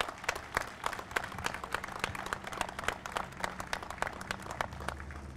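Scattered, sparse clapping from a modest audience honoring the men and women of Coast Guard Air Station Traverse City at an outdoor sculpture unveiling, individual claps distinct over a low steady hum, fairly quiet.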